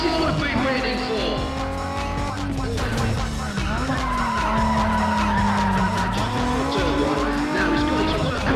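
Race cars launching at the start of a race in Need for Speed: ProStreet on PS2, engines roaring and revving through gear changes with tire squeal, loud and continuous while a commentator talks over it.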